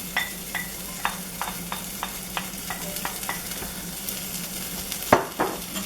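Chopped onion and garlic fry in a pan with a steady close sizzle, punctuated by regular scraping taps of stirring about every half second and a louder clatter near the end, with no talk.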